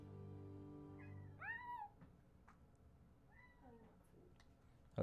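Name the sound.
pet cat meowing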